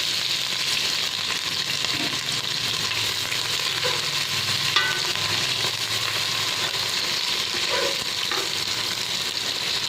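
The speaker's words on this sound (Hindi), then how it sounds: "प्याज को हमने अच्छी तरह भून लेना है, इन्हें फ्राई करना है अच्छी तरह।" Chopped onions fry in hot oil in a pan, producing a loud, continuous crackling sizzle, close up and unbroken, with faint stirring scrapes and no voice.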